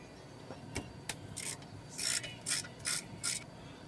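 A hand ratchet working the wheel cylinder bolts on a dually truck's brake, a few sharp clicks followed by four evenly spaced raspy ratcheting strokes, close and quiet.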